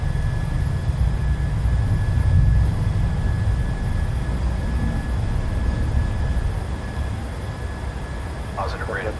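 A PMDG Boeing 737-700 in a flight simulator rolling down the runway for takeoff, a steady loud engine and rumble roar that eases slightly near the end, with people talking over it.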